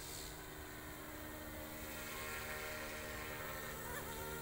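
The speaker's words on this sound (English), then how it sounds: "I like very much when this helicopter comes towards us with the nose in" A small OMPHOBBY M2 scale RC helicopter flies overhead, its high-pitched rotor and motor whine buzzing steadily and faintly at a distance, with a tonal hum that drifts as it approaches and turns.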